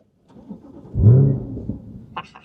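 A Corvette C8 cranks briefly and its engine fires into a deep, swelling roar that settles after about a second, followed by a short higher mechanical whine.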